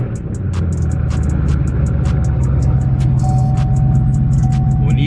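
A Chevrolet Camaro ZL1 with stock catalytic converters cold-starts, settling into a loud, steady, deep idle rumble that stays close and constant throughout, with no talk over it.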